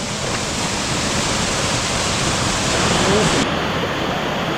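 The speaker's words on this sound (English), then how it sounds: "Cascade." Waterfall cascading through a canyon at Aguinid Falls in Cebu, a loud, steady broadband rush of falling water filling the whole clip without a break.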